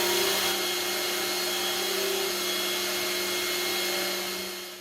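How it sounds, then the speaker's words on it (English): Power sander working a wooden sign board, a steady loud whirring drone with a constant hum that runs unbroken and then winds down at the end. "So we're going to sand it down now."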